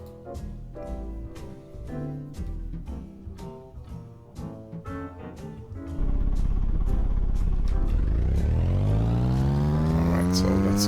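A car engine in a Unity endless driving game drones loudly and steadily. Rhythmic percussive beats run through the first half, then the tone swells and sweeps upward as the car speeds up.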